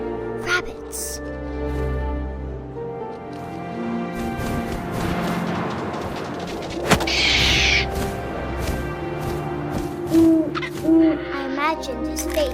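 Owl hoots and calls from the video game What Remains of Edith Finch, a few soft tonal hoots set against a layered game soundscape of wind, rustles, thumps and music.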